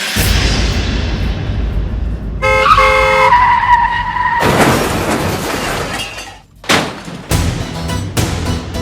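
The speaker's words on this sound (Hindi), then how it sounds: "आपने मेरी गाड़ी ठोक दी" A car in a television drama scene skids with a squealing screech, then crashes with smashing glass and heavy impacts. The noises are loud, close and chaotic, and there is no speech.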